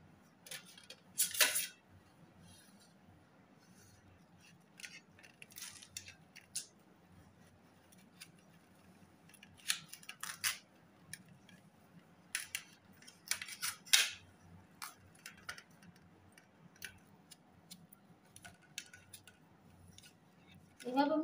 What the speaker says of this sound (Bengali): এইভাবে আমি তরমুজ পুরো কেটে টুকরো টুকরো করে নেব।